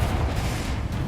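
A Confringo blasting spell detonates in Hogwarts Legacy, a dense low booming blast with rumble filling the whole moment.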